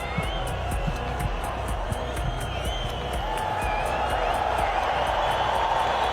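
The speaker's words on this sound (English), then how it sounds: "As the crowd roar in anticipation" A packed stadium crowd at the Doha 2019 World Athletics Championships roars and cheers steadily before the men's 4x400 m relay final, a dense continuous wall of noise with faint commentary running beneath it.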